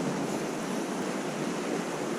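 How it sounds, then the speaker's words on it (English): River water swirls and rushes in a steady, broadband wash with no pauses, close to the microphone, on the East Carson or Truckee with ice floating in it. "This water swirls around here pretty good."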